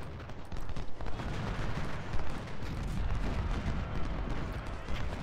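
Distant artillery booming over a Civil War battlefield in Ultimate General Civil War, a dense rumbling barrage of overlapping cannon fire and musketry rolling continuously, with no distinct talk.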